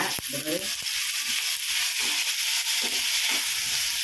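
Onion, crushed garlic, curry leaves and tomato sautéing in a pan, with a loud, steady sizzle throughout, broken by a few stirring scrapes and a brief murmur of voice.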